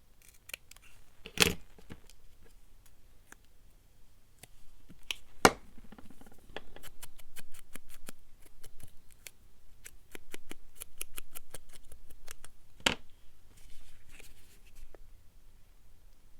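Scissors snip through paper for a mini hinge journal with a file tab, giving a few sharp separate cuts followed by a quick run of close, rhythmic snips, with soft handling rustle between them.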